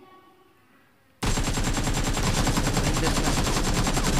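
Automatic gunfire in the mobile battle royale game BGMI during a one-on-one match bursts in suddenly after a quiet moment and continues as a loud, dense, rapid rattle of shots to the end.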